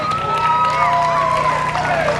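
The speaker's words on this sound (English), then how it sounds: "Let's give him a round of applause." A crowd at a police Night Out Against Crime event applauds and cheers for Joshua, a steady dense wash of clapping with rising and falling shouted cheers throughout.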